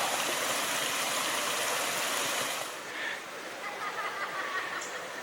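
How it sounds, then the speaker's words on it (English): Steady rushing water of a small waterfall in the Goldstream area, close and continuous, easing slightly partway through as the flow sounds softer. "The littlest waterfall."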